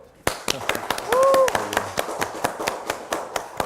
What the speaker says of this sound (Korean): 박수로 들어갈까?